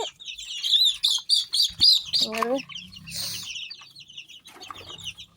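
Siruvidai country chicken chicks on a poultry farm, a rapid series of high chirps and peeps followed by a brief lower cluck, with someone talking faintly in between.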